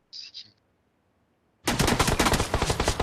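Automatic gunfire in the PUBG battle royale game, heard as a dense, loud burst of rapid shots after a short high chirp and a moment of silence.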